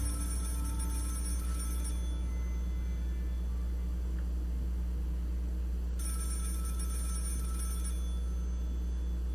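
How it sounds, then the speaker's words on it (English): A telephone ringing inside a room at night, two separated bursts of electronic ring over a loud, steady low electrical hum, with no voices. "awoken to the sound of a phone ringing from within his room"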